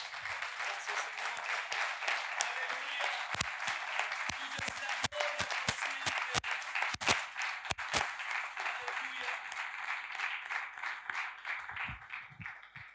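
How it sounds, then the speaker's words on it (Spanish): A church congregation applauds during a sermon, a long stretch of steady, fairly distant crowd clapping with sharper individual claps popping out now and then, gradually thinning toward the end. "¿Cuántos le aplauden al Señor?"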